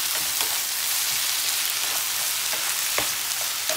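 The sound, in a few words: onions, ginger garlic paste and tomatoes sautéing in a pan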